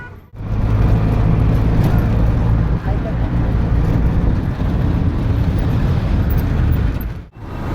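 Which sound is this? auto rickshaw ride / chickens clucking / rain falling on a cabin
auto rickshaw ride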